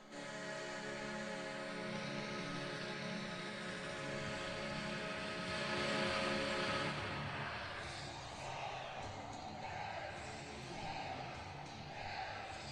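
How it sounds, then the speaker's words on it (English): Crowd in the American Airlines Center at an NHL playoff game, Dallas Stars against Edmonton Oilers, roaring after a tying goal: a sustained broad wall of cheering that swells in the middle and holds, with faint commentary beneath. "The American Airlines Center going crazy as Tyler Sagan's second has tied game 1"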